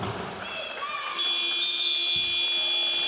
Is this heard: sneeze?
no